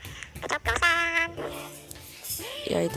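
Dog voice made by a voice changer app: a processed human voice turned into whimpering, yipping dog-like sounds, a few short yelps and a drawn-out whine, close up.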